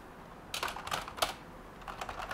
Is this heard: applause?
no